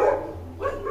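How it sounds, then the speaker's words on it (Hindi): An Akita dog barks in a short indoor burst, two close, fairly loud woofs with a brief dip between them, no other voices. "भौंके जा रही है आज।"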